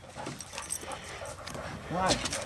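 A German shorthaired pointer bird dog whimpers and yips during a quail training session near Central City, Kentucky, with short high whines rising near the end over outdoor background noise and faint talk.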